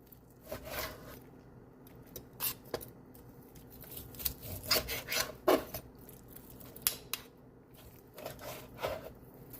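Food is sliced into pieces for even cooking while fixing dinner, giving repeated rasping knife strokes in irregular bursts, close and fairly quiet.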